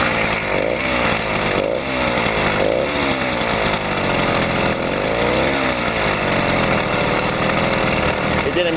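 A Yamaha YD100 engine with a ramped piston runs steadily, close and loud, a dense buzzing drone with a rattle in the top end, its pitch wavering slightly as the revs shift.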